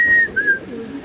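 Fancy pigeons, American Lakkha birds kept on a breeder's farm, give a brief, close cooing call with a soft whistling tone, heard alone with no talk.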